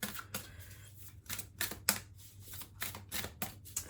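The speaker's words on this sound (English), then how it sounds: "I'm going to give the cards a shuffle" Tarot cards being shuffled in quick bursts of crisp riffling and slapping, close and fairly quiet, with short pauses between runs and no talking.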